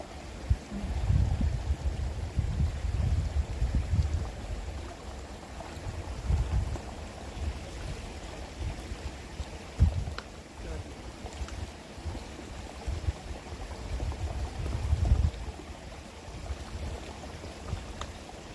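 A mountain creek on the Pacific Crest Trail flows steadily while a hiker collects water, a low rushing burble with wind buffeting and occasional close knocks and splashes.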